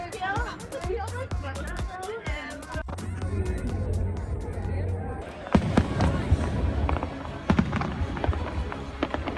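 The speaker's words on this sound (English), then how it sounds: "everyone is going to the Hoan Kiem Lake for the fireworks for the New Year" Lunar New Year (Tet) fireworks over Hoan Kiem Lake in Hanoi: sharp bursts and crackles mixed with a lively crowd chattering, growing denser and louder toward the end.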